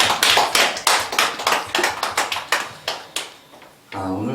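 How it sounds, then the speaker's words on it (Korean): A church congregation claps for the children at a Children's Day Sunday service, a run of distinct sharp claps close by that thins out and stops, with a brief voice just after. "또 우리 원현 사모님께 우리 격려의 박수"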